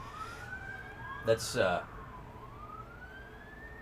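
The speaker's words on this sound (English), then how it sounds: "sirens are going by my place" Emergency vehicle siren passing by outside a home, a wailing tone rising and falling steadily across the clip, fairly faint and distant, with a brief voice and a few short knocks partway through.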